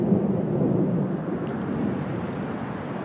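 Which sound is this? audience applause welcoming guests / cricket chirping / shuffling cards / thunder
thunder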